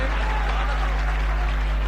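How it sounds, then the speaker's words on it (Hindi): An audience at a 2009 mushaira poetry gathering applauds a poet with steady, wash-like clapping. A strong electrical hum runs under the applause, and a voice is present. "ढेर सारी तालियां जनाबे हाशिम फिरोजाबादी के लिए"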